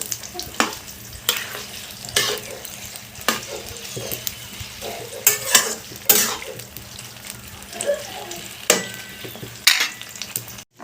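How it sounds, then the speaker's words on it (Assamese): Jujube pickle being stirred in a pan, with a spoon scraping and knocking the pan in repeated, uneven strokes over a soft bubbling sizzle, close and fairly loud, with no speech. "এইখিনি মই এতিয়া লৰাই দিছোঁ অলপ সময় এইখিনি মই লৰাই থাকিম"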